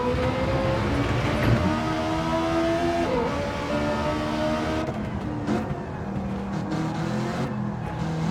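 A Ferrari F430 race car in Gran Turismo 7, running in a GT2 endurance race, revs hard with a loud, dense, sustained engine roar and shifting pitch, alongside other cars, with no talking.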